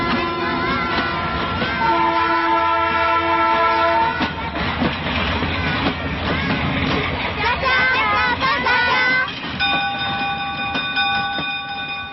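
A train rumbles past with horn-like tones sounding over the clatter, loud and continuous throughout, with voices and other sounds mixed in.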